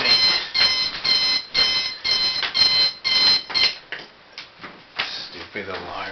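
An alarm clock rings close by in rapid, repeated beeping bursts that go on for several seconds, then cut off and give way to softer, scattered sounds and a voice.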